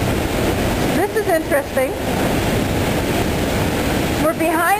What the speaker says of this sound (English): We're behind the Niagara waterfall right here, and there's spray coming right in front of the camera. The water is plunging right in front of us here.